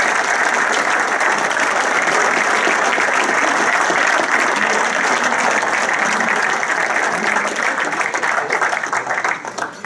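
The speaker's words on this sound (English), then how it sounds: "a round of applause for those people that worked on B Group with me" Loud, sustained applause from a crowd at a fire department retirement party honoring the B Group crew, dense continuous clapping for nearly ten seconds, tapering slightly at the end.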